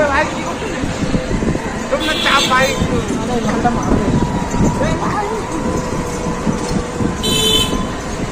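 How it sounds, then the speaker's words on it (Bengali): Busy road traffic beside colleges in Siliguri rumbles under people talking, with short vehicle horn toots breaking through near the two-second mark and again near seven seconds. "রাস্তা বেরোবো মানে গাড়ির আওয়াজ তো থাকবে।"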